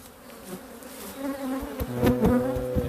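Honeybees buzzing around an aggressive hive during a varroa check, a dense close buzzing drone with individual bees whining past the listener and swelling louder toward the end, with no speech.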